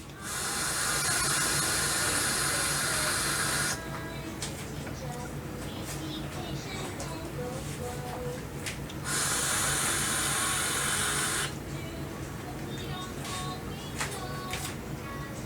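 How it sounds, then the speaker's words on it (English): A couple of long hissing draws from a Hellvape Fusion pod vape with wide-open airflow, each steady inhale lasting several seconds with a quieter breathy stretch between them. "let's go ahead, take a couple hits"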